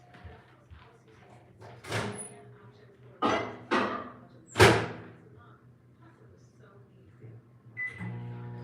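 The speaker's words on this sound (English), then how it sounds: "I'm going to put them in the microwave for about 5 minutes." A few sharp microwave oven door thumps and clunks ring out, followed by a steady hum as the microwave starts running, with bits of talk in the background.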